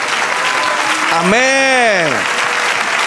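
A church congregation applauds in a continuous, moderately loud wash of clapping while a single voice calls out a long rising and falling exclamation over it.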